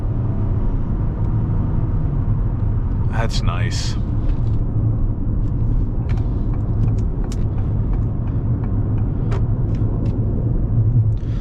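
Engine of a 2023 Acura MDX Technology cruising on a highway, a steady low drone with road rumble running throughout, brief higher sounds around the middle, and a voice speaking over it.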